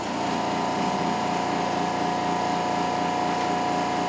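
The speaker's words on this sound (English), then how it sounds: "So that's what I'm drilling now." A drill boring the large hole in a wood-turned stopper on a lathe at a woodturning demo, a steady continuous mechanical whir with a constant hum, loud and unbroken throughout.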